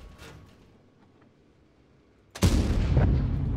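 A World of Tanks tank cannon fires a gold round: one sudden, very loud blast after a quiet stretch of faint background, then a long booming rumble that lingers to the end.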